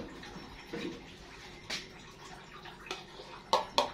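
Liquid jelly poured over a Thai-style mini fantasy fruit cake, giving soft splashing and dripping sounds with a few sharper splats near the end, close and fairly quiet.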